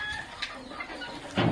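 Hens cluck in a wire-fenced poultry enclosure, several short, close calls scattered over a low background murmur, with a louder burst of clucking near the end.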